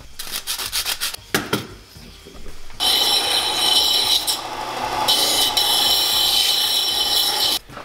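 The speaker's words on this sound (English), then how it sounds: "I also like to sand the edges just a little bit so it's" Sanding the edges of a wooden antler plaque: a few short scratchy strokes, then a long, loud, steady gritty rasp that swells and continues almost to the end.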